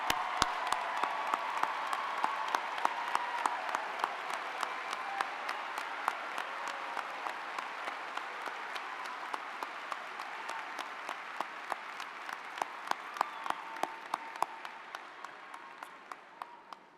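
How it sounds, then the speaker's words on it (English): Sustained audience applause at a university spring commencement ceremony as mothers are asked to stand, dense steady clapping from a large crowd with sharp individual claps on top, tapering off near the end. "I'd like all the mothers to stand up and give a big round of applause"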